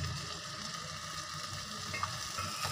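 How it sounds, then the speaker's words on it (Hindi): Eggplant and potato curry frying in a pan as tomatoes and salt go in, giving a steady, close sizzle with faint stirring scrapes and no talking. "अब इसके अंदर हम टमाटर ऐड कर देंगे और नमक ऐड कर देंगे हसबे ज़रूरत।"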